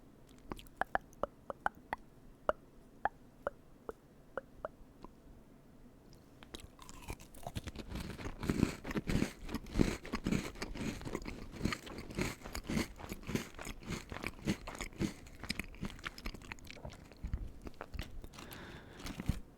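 A double stuffed Oreo cookie with milk is chewed up close. Crisp single bites crack out at first, then give way to dense, continuous crunching and soft chewing that stays quiet and intimate.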